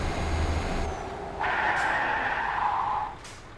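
Truck tires skidding under light braking in Euro Truck Simulator 2, a harsh sustained screech over steady engine rumble, loud and close, with no talking.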